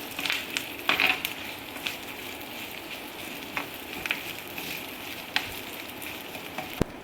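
Curry leaves and mustard seeds frying in hot oil for a tadka, a steady close sizzle broken by sharp pops and crackles scattered irregularly throughout, with no voices.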